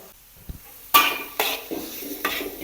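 Vegetable rice with black pepper and chicken powder is stir-fried in a pan, giving a handful of scraping, clinking strokes of a utensil against the pan over a low sizzle, close and moderately loud, with no talking.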